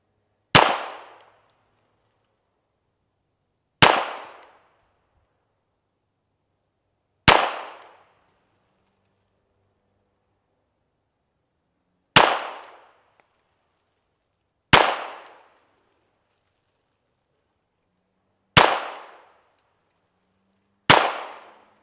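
A Smith & Wesson Victory pistol fires seven sharp, loud reports spaced a few seconds apart, each cracking out alone and decaying quickly into silence.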